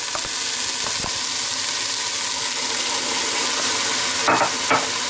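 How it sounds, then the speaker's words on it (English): Coffee poured into a hot pan of browned beef for chili, sizzling and hissing steadily up close, with a couple of brief scraping stirs near the end. "And just deglaze or get rid of all those little burnt on bits down the bottom."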